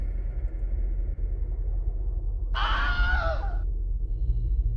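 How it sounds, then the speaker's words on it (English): A short Wilhelm scream sound effect, a single strained, wavering yell lasting about a second, rises over a steady low rumbling background hum and then cuts off. "Wilhelm scream"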